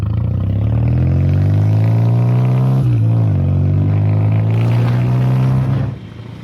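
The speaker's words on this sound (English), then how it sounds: "The best part about following someone on your motorcycle is you get to hear your exhaust from a different perspective." Motorcycle exhaust heard while riding behind another bike on Tennessee roads, a loud steady engine drone that dips briefly as the rider shifts gears and then rises again before fading.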